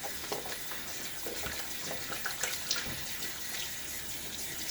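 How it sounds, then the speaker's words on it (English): Running tap water rinses a Rockwell 6C Gunmetal safety razor, a steady, fairly faint broadband rush with small splashy fluctuations throughout. "let me rinse this off"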